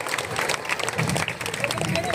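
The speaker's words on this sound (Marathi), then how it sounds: "जो एका ओंकार मित्र मंडळासाठी जोरदार टाळ्या झाल्या पाहिजे" A crowd applauds for Omkar Mitra Mandal at a public gathering, with steady dense clapping mixed with cheering and crowd babble throughout, loud and close.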